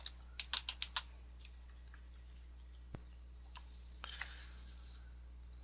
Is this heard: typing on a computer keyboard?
yes